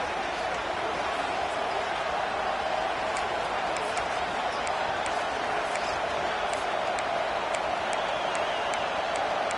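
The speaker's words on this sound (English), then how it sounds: "This crowd bringing the energy and noise early." A college football stadium crowd roars in a steady broad wash of noise, loud and continuous, with sharp claps and thumps scattered through it.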